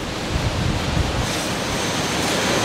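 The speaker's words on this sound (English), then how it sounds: "flow a little bit of water, and that water will go right into the drain" Water rushes steadily through an opened sprinkler system control valve into a drain on an inspection trailer, a loud, continuous broadband hiss with no pauses.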